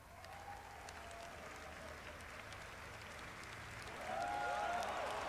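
Crowd at the E3 2018 Sony press conference applauding and cheering under loud presentation sound, with whoops rising and swelling toward the end.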